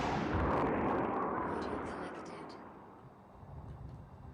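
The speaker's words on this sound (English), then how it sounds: "I just got blown up by mines." Mines exploding in the video game Boss Constructor: a loud, booming blast that swells early and then slowly dies away, followed by a quieter rumble of game noise.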